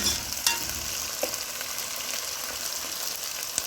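Onions brown in a pan for a Durban-style mutton curry, sizzling steadily up close with a few sharp clicks and stirring knocks, with no voices.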